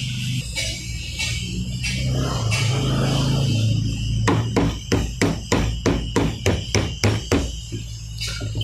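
Metal hammer blows on transformer parts during inverter transformer winding for an EB 1100: roughly a dozen sharp, evenly spaced knocks in a quick run, preceded by rustling handling noise over a steady low electrical hum.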